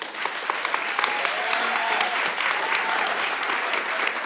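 Audience applause at a jazz music workshop, a steady wash of many hands clapping throughout, fairly close and dense, with no talk over it.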